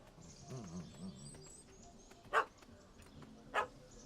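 A dog in The Witcher 3 gives two short sharp barks about a second apart, standing out over a quiet game soundscape with faint ambient tones.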